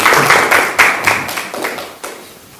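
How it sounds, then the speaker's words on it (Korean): At a Democratic Party political event, an audience claps to welcome a gubernatorial candidate to the podium, a short round of close, sharp handclaps that thins out and fades within a few seconds. "큰 박수로 맞아주시기 바랍니다"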